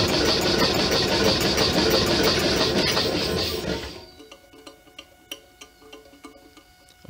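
Lubrication-free Stirling engine with PTFE seals running steadily and loudly with a dense mechanical whir, then cutting off about halfway, leaving quieter scattered clicks and ticks as it winds down.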